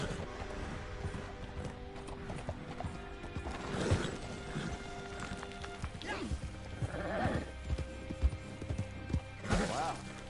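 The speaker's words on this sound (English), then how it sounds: "Wow, fine horse there." A horse in the video game Red Dead Redemption 2 clops along with hooves thudding and occasional snorts or whinnies, heard faintly amid game ambience and a few louder knocks.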